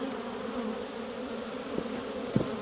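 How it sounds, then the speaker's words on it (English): Honeybees hum in a steady, dense buzz close by at an open hive frame, with a couple of brief louder knocks near the end. "I'm going to shake all the bees off it anyway."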